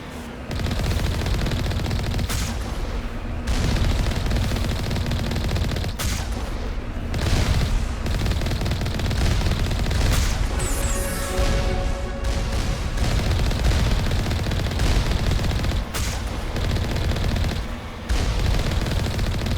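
Sustained gunfire from a Mass Effect battle: dense, loud bursts of rapid shots and booming impacts rolling almost continuously, with occasional short gaps between volleys and a brief whining tone mid-way.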